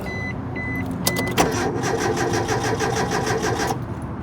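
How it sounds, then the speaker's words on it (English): A £250,000 concept car with an engine cut-off switch being cranked: a few short electronic beeps, then a rapid, rhythmic starter whirr that churns for a couple of seconds and stops without catching. "Let's see if it'll start up."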